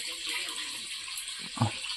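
Water runs steadily while soaked idli ingredients are rinsed in a kitchen, a continuous close splashing wash with a brief louder slosh near the end.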